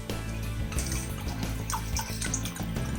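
Water pours steadily into a large pot being filled for a bone broth of about a kilogram of bones, a loud continuous splashing gush with small gurgles and drips throughout, close by and with no talk.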